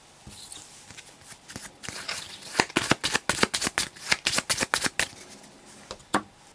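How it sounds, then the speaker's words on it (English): Cards from the Immortal board game are shuffled by hand in a quick series of sharp riffling bursts, close and crisp, building into rapid repeated flicks before a last isolated snap, with no talking. "So basically the players will shuffle their 9 level 1 cards and draw 5 of them"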